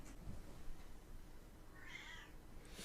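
A cat outside gives a single faint meow at a distance against a low background hum.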